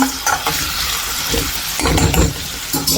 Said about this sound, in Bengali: প্রথমে মশলাটা কষিয়ে তারপর শিং মাছ দিয়ে দেবো